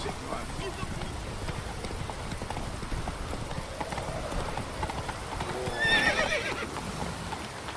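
Roach, Geralt's horse in The Witcher 3, galloping with steady clip-clop hoofbeats that swell briefly near the end, with game ambience and a soft whinny-like call, under light talk.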